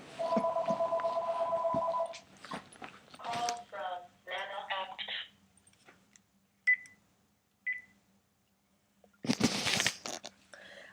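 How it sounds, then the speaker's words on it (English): A telephone rings with a two-tone electronic burst, followed by scattered beeps and clicks, near and fairly loud in a quiet room, with brief speech between the sounds. "Oh, good, my phone's ringing."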